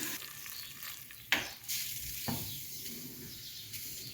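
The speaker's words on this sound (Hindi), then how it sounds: "अब मैं ये तड़का जो तैयार किया है मैंने वो मैं इसमें डाल दूँगी।" Close sizzling and frying with a sudden hiss as hot tempering is poured into a pot of moong and masoor dal, then continued crackling and stirring.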